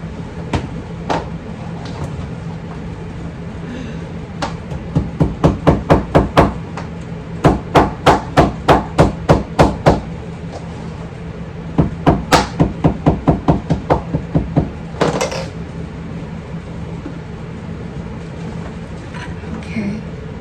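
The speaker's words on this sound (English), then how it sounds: "And I'm just hammering this down." A hammer pounds handbag material flat, sharp knocks in quick bursts of about eight to ten evenly spaced strikes separated by short pauses, close and loud.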